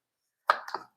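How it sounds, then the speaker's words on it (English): A knife makes a single quick chop through carrots on a cutting board, a short close thud followed by a brief scrape, with silence before it. "So I'll just chop up my carrots here."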